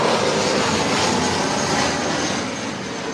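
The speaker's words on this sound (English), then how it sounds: "Another plane. Where is it? Last plane of the night." A loud airplane passes overhead at night, a steady broadband jet roar that holds strong and then eases slightly as it moves away, with no voices.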